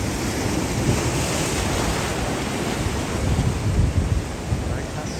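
Rough, high-tide surf crashing on Guarujá beach, a steady loud broadband roar of churning waves with wind buffeting the microphone, swelling slightly toward the end.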